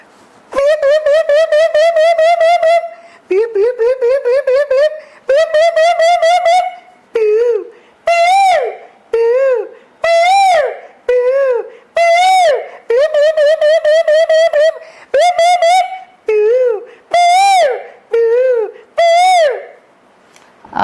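A man imitates the call of the Asian koel with his voice, a loud, close series of rising tonal whoops, first in long sustained phrases and then as short repeated calls spaced about a second apart.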